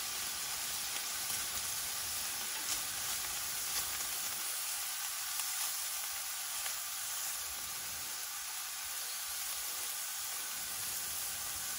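Shrimp sizzle and fry steadily in oil in a pot, a continuous close hiss that fills the whole stretch with faint stirring ticks and no talk.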